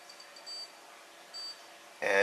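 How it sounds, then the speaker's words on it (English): A Soeks 112 Geiger counter sounds its radiation alarm, a sharp bright beep bursting in at the end after quiet faint ticking, close to the device. "And it has gone into alarm."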